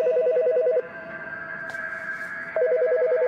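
A telephone rings in the video game As Dusk Falls with a rapid electronic trill, two bursts separated by a quiet gap, alone over a soft steady background tone.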